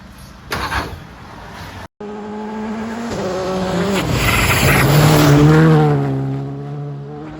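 A Skoda Fabia rally car is driven at speed during pre-Rally Mexico testing; its engine note climbs and shifts through the gears, loud and close, with a brief cutout partway through.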